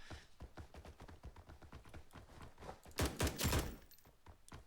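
Gunfire in the video game Blackhawk Rescue Mission 5: rapid bursts of shots at a steady rhythm that build into a louder, denser volley partway through, continuous and without speech.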